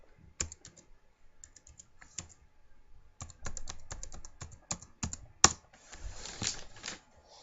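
Keys click on a computer keyboard in quick, uneven bursts during email and password entry on a Windows 8 computer, with short pauses between runs and one sharper clack near the end, all close and fairly quiet.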